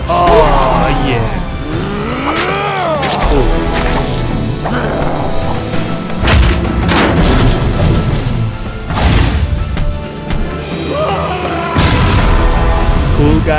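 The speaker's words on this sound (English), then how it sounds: "Cool guys don't look at explosions." Loud booming crashes from explosions in the action video game Shank 2 erupt several times amid continuous game noise, with voices heard between the blasts.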